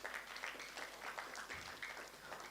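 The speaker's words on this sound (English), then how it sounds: "ladies and gentlemen, a round of applause" An audience gives a round of applause, faint, dense clapping with a loose rhythm that continues evenly for a couple of seconds.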